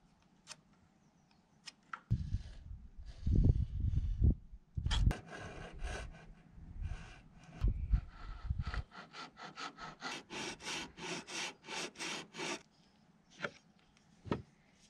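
A hand chisel works into wood at an off-grid site, giving dull knocks and scraping thumps at first, then a steady run of sharp, regular tapping strikes close by.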